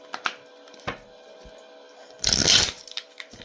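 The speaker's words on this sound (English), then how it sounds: "Let me shuffle." A burst of riffling card shuffling about two seconds long, loud and close, with a few soft taps and clicks of handled cards before and after.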